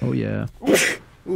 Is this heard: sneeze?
yes